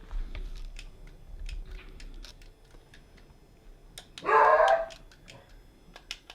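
Dogs barking indoors, one short loud burst of barks near the middle against a quiet room with faint ticks and taps, no one talking.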